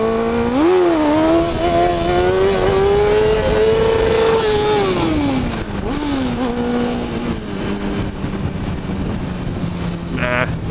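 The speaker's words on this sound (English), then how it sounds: "Let's give a little wheelie here." A 150 cc motorcycle engine revs hard and holds a rising, sustained pitch during a wheelie, then eases off and drops back to a steady idle-like drone, loud and close throughout.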